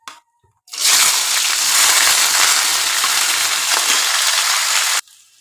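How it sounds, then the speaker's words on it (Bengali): Onions dropped into hot oil with fried white cumin, bursting into a loud, dense, steady sizzle that holds for about four seconds after a brief quiet start, then cuts off. "জিরেটা ভাজা ভাজা হয়ে গেছে, এবার আমি পেঁয়াজটা দিয়ে দেবো।"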